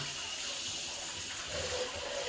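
A Delta shower faucet runs with a steady, even hiss of flowing water that holds constant throughout.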